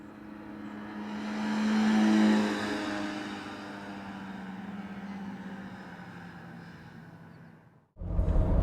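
A naturally aspirated 4-cylinder engine in a 15-year-old Honda S2000 revs and drones loudly, rising to a peak and then holding a steady, strained note before cutting out abruptly and returning with a deep rumble.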